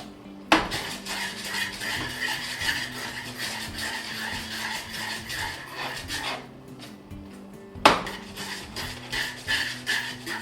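Tuna pasta tossed and flipped in a metal pan, giving scraping, clattering rattles of pasta and pan in a steady run, with two sharper bangs as the pan lands partway through and near the end.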